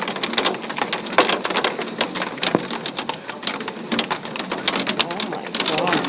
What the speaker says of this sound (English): ice that comes like rain.